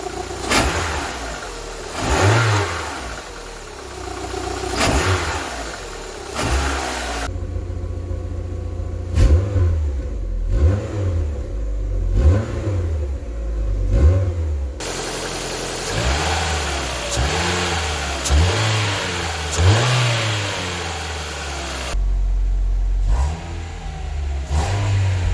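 Rover K-Series or Ford Sigma car engine, close and loud, revved repeatedly in sharp blips that rise and fall over idle, with brief pauses between bursts.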